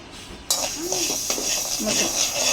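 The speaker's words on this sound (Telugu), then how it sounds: "మెంతులు కూడా అలాగే అదే విధంగా దూరగా ఫ్రై చేసుకుందాము" Fenugreek seeds are dry-fried in a kadai, with a steady soft rattling and scraping as they are stirred, plus occasional clinks of a spoon against the pan, close by.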